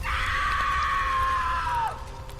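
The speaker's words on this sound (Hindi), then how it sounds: "वो दर्द से चिल्ला रही थी" A woman screams in pain while burning, one long, loud, sustained cry held for about two seconds before it breaks off.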